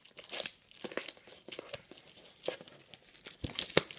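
A 2013 Benchwarmer Vegas Baby trading card box being torn open by hand, with close, quick bursts of ripping and crinkling packaging that come in irregular rips and rustles and with no talking.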